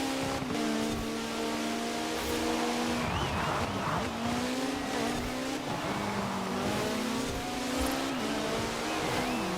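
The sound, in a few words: Caterham Superlight R500 car cornering in video game Forza Horizon 4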